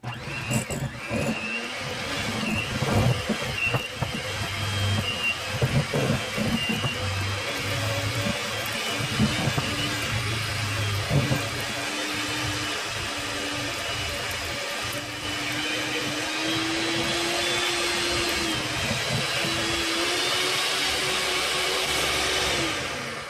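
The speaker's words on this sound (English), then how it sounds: "we are going to beat our butter for 30 seconds on high speed." Electric mixer beating butter on high speed for pecan Breton biscuits: a steady, loud motor whir with a slowly shifting pitch, running continuously throughout.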